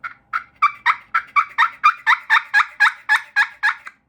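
A push-pull turkey call produces a rapid, close gobble of about fifteen sharp, evenly spaced notes over four seconds, loud and alone against silence.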